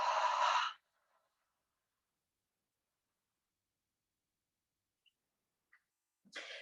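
A single long, soft exhale during yoga practice, close and breathy, followed by near silence and then the start of another faint breath at the end.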